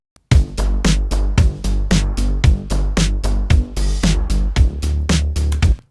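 Eighth-note ducked bass locked with a drum kit: regular punchy kicks and bright hi-hat and snare hits over the pulsing low end, loud and steady with no voices.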